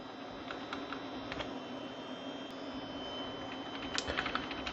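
Steady typing on a computer keyboard at a Windows 98 era PC, rapid clicking keystrokes over a constant fan hum, with a quicker burst near the end and no talk.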